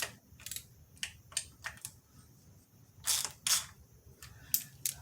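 Rapid ratcheting clicks in short bursts as thermostat housing bolts are snugged down on a Jeep engine, close and fairly crisp over a low background hum.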